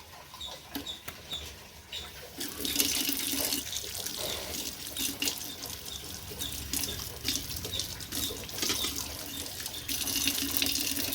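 A tap runs steadily into a sink while gas stove parts are washed with soap and water, the flowing water close and continuous, with brief clinks of handling throughout.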